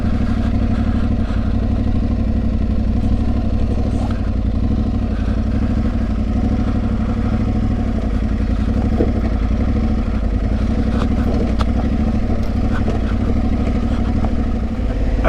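A Royal Enfield Himalayan motorcycle goes down a steep slope in low gear on a trail ride, with a steady, close engine drone and rattling over wind noise.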